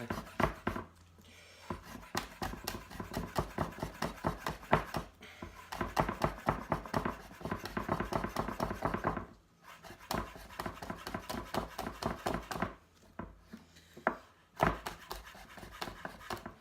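A knife finely chopping chilli on a board in a goose curry kitchen: rapid, steady tapping strokes in long bursts, broken by short pauses, close and crisp.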